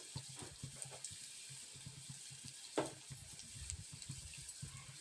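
Chana dal and ajwain dry-roasting in a pan for mango chutney give a steady soft sizzle with light stirring scrapes, and one sharper clatter about midway.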